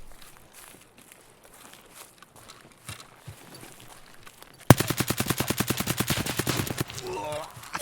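Rapid bursts of suppressed AK-104 rifle fire in Escape From Tarkov, a dense rattling volley erupting loudly after quieter footsteps and movement, firing in a fast steady rhythm for a few seconds before stopping.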